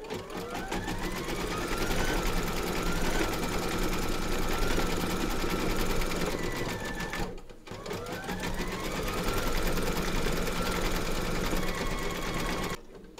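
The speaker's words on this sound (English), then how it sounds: "stitch round number 5, and I'm going with white" An embroidery machine stitches white thread for the eyes of a large surfing Santa design with a rapid, steady mechanical whirr. The hum breaks off briefly midway, resumes, and stops near the end.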